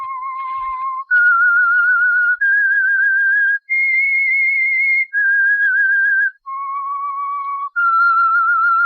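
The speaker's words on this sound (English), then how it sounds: "That whistle is your signal" A clear whistled tune of sustained, steady notes, each held about a second with brief breaks, rising and falling in pitch, loud and alone.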